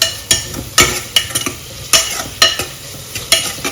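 Crushed ginger, garlic, chili and coriander sizzle with softened onions in a pan for prawn rice, while a spoon scrapes through in loud, regular strokes over a constant hiss.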